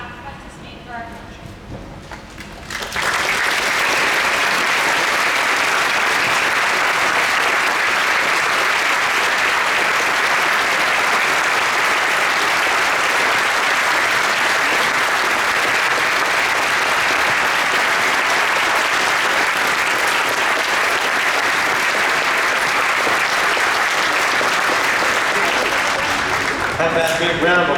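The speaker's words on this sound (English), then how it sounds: "A round of applause for the sacrifices made for our country." Sustained, loud applause from an audience honoring veterans at a Wellsville High School community Veterans Day program, a dense wash of clapping that starts abruptly after a brief spoken word and continues steadily for over twenty seconds.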